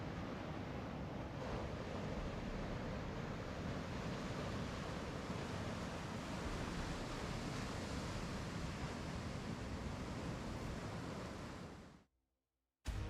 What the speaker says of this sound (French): les vagues qui se brisent sur les rochers